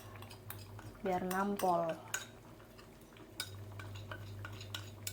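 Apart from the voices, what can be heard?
ingredients being put into a wok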